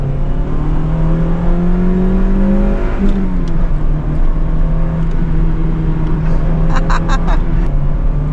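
A car engine with freshly fitted Japanese parts revs up, its pitch climbing steadily and then dropping sharply, loud and close, with faint clicks and taps toward the end.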